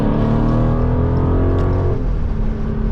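A Dodge Charger 392 on a cold winter street in New York City, fitted with drag radials, accelerates hard with a loud, steady, deep engine roar close by.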